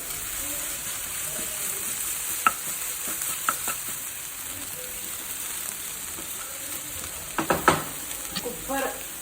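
Jackfruit curry with tamarind paste sizzling in a pan over a low flame, a constant bright hiss with a few scraping stirs and clinks breaking through, heaviest toward the end.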